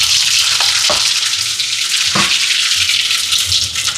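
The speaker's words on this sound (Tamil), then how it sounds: "இப்போ எண்ணெய் சூடாயிட்டு கடுகு சேர்க்குறேன் பெருஞ்சீரகம்" Mustard and fennel seeds fry in hot oil with a loud, steady crackling sizzle that runs throughout, broken by a few brief clinks and stirring knocks, with no voices.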